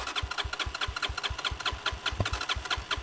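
A Lexmoto Isca 125 motorbike engine with a suspected bad fuel injector runs roughly up close, a fast uneven chain of puttering pulses that falters and never settles into a smooth idle.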